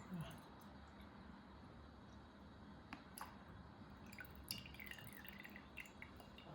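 Liquid from a herbal cough remedy drips and trickles as it is strained, soft intermittent drips rising over a steady low background hum, fairly quiet throughout.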